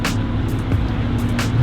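A Lamborghini Aventador SVJ sports car gives a steady, loud low engine rumble at close range with a few brief hissy bursts on top, over a short stretch.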